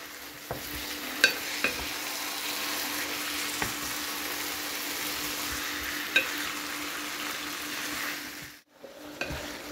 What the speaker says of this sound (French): Voilà, on mélange bien.